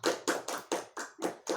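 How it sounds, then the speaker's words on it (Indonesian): Hands clap in a classroom in a quick, close series of about seven sharp claps at a steady rhythm, fairly quiet, with no talk over them. "beri tepuk tangan"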